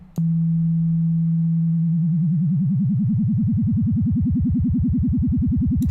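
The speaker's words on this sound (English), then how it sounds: "if we FM from this, the pitch of this sine wave is going to change based on this shape" A steady low synthesizer sine tone holds, then begins wobbling in pitch under frequency modulation, the vibrato growing wider and faster until it swoops rapidly up and down.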